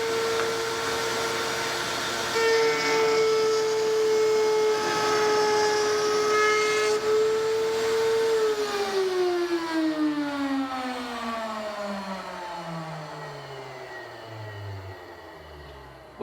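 A table-top router switched on runs with a loud, steady high-pitched whine for about eight seconds, then the pitch falls as the bit spins down, the motor winding down gradually toward the end.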